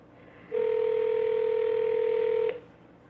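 A single long telephone tone sounds for about two seconds, loud and steady, with silence before and after, as an unanswered call rings.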